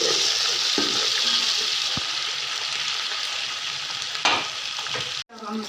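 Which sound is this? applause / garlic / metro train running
garlic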